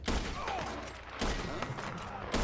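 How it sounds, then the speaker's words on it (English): A shootout in Red Dead Redemption 2 brings three loud, close gun blasts spaced about a second apart, each trailing into echoing reverb with scattered distant shots between them. "And just start firing."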